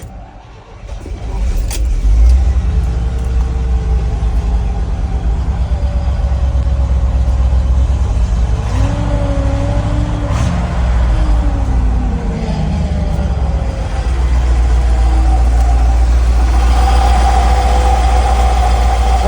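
A GMC 366 big-block V8, running on dual tanks with a manual fuel pump line, idles steadily and close by with a deep, even rumble. A brief rev swells in the middle, and faint talk sits underneath.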